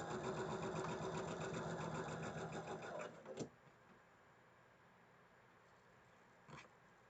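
A sewing machine stitches quilt blocks at close range for about three seconds, then stops, leaving a quiet room broken by a couple of brief knocks.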